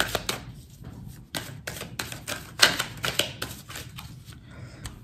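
A deck of Mirror oracle cards is shuffled by hand, giving a quick run of crisp papery clicks and riffles that come in uneven bursts, close up and fairly loud, with no talking.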